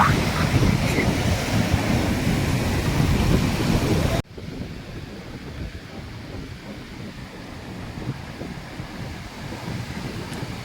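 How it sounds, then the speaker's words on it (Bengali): Loud surf and wind roar around a boat heading out onto the sea off Puri, a steady rushing wash that drops to a lower, calmer level partway through. No voices are heard. "তাই সেই তরীটি আস্তে আস্তে এগিয়ে চলেছে সমুদ্রের ঢেউয়ের মধ্যে"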